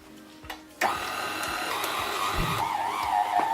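A stand mixer kneads pastry dough for pains au chocolat at a very slow speed, giving a steady, loud motor whir that starts abruptly and continues without speech.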